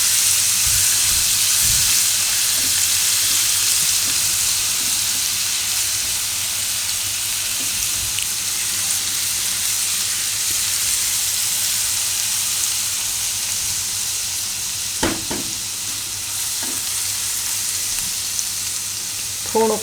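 Garlic sautés in a couple of spoons of hot oil for spicy Maggi noodles, a loud continuous sizzle and hiss close by, with occasional faint stirring clicks and no talk.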